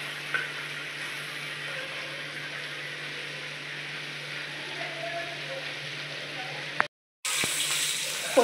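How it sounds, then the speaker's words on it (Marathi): Paneer frying in butter on a flat tava for a Maharashtrian fasting gravy, a soft continuous sizzle with a faint steady hum beneath, cut by a brief silence near the end before the frying resumes. "पनीर तळून घ्यायचं। तव्यामध्ये बटर टाकून घेतला आहे।"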